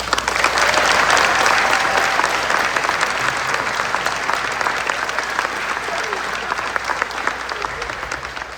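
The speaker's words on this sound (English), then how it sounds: "A round of applause for all honors." A crowd at a school awards ceremony applauds honors students with sustained, loud, thick clapping that fills the whole stretch and eases slightly toward the end.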